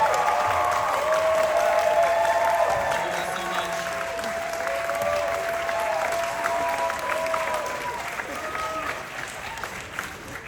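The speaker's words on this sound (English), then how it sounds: "Round of applause" An audience at a film world-premiere Q&A at SXSW breaks into sustained applause for the cast on stage, a broad crackle of many clapping hands mixed with cheers and voices, strongest at first and then holding steady.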